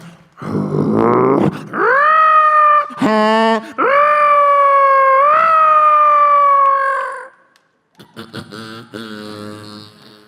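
A loud voice mimics wailing sirens, sliding between long sustained tones with a few abrupt shifts, then trailing into softer broken noises.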